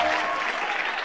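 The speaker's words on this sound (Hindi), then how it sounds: "देखता हूँ कौन कौन तालियां बजाता है" A studio audience at a Hindi comic poetry show breaks into a short, dense round of applause, steady and fairly close.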